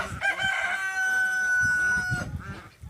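A rooster crows in a long drawn-out call, with hens clucking softly nearby in an open village farmyard where ducks and geese are also kept.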